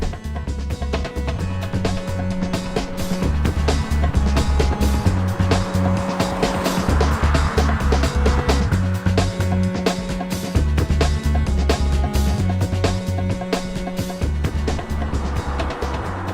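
A Toyota Yaris Hybrid car driving through demanding curves, its engine drone rising and falling steadily with shifting revs, fairly loud and continuous from inside the car, with no talking.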